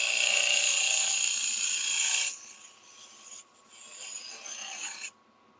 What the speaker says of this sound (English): tip of the slide tool is actually cutting just above center, but almost level with the axis of the lathe